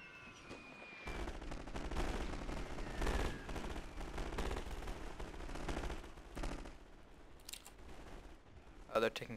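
Sustained volleys of musket and rifle fire from troops in Napoleon Total War, dense crackling shots rolling on for several seconds with louder bursts, some distant and some close.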